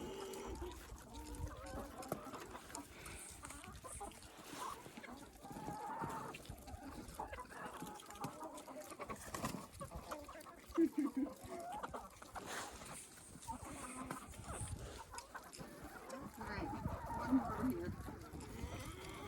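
Hens cluck on a snowy winter farm among cattle, with soft scattered clucks and occasional lowing over a restless background of shuffling and handling noise, and people talking now and then.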